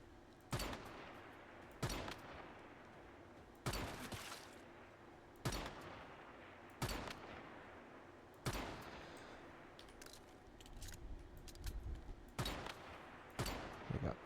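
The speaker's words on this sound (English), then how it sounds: "somebody's shooting back now." Enemy gunfire in Once Human cracks out as sharp, loud single shots and short bursts at irregular intervals, close by, with a brief voice in between.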